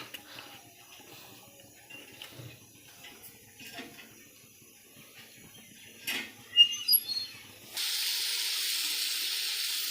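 Leafy greens frying in a wok: the first part is quiet, with scattered small clicks and faint background sounds. Then a sharp clatter gives way to a sudden, loud, steady sizzling hiss that continues to the end.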